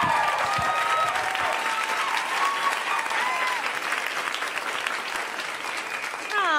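A stand-up comedy audience breaks into loud, sustained applause that fills the room, with whistles and scattered cheers rising through the clapping.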